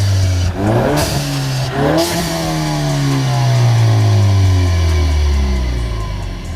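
A straight-piped, tuned 2018 Ford Mustang EcoBoost revs hard and loud at close range, its raspy exhaust note climbing and falling in several sharp bursts before a longer sustained rev that slowly winds down.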